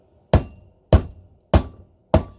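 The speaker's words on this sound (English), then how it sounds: "take the hammer, set it on there, tap a few times" A hammer taps an engine part into place during an engine rebuild, landing four crisp, evenly spaced knocks that each ring briefly in a quiet room.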